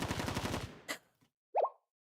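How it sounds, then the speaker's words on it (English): Gunfire in the Blue Archive video game: a short rattling burst of rapid shots fades out, followed by a single sharp muffled pop after a brief gap, all fairly quiet. "Gunfire!"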